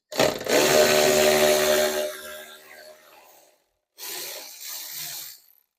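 A power tool whirs loudly on a bolt inside the door of a Jaguar F-Pace, one sustained burst of about three seconds and then a second shorter burst after a brief gap, with no talk.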